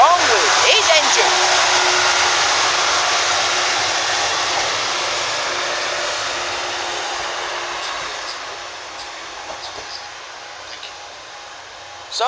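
Class 156 diesel unit 156412 with a faulty engine runs at Westerfield, a loud, steady, broadband roar holding for about twelve seconds and easing slightly toward the end.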